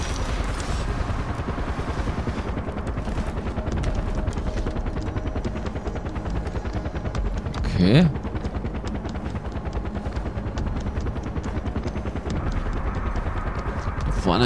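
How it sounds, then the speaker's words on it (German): A steady, rapid rotor chop from a helicopter in Far Cry 4 runs throughout, dense and loud, with gunfire-like bursts and a brief spoken word midway. "Vorne ist der Hubschrauber."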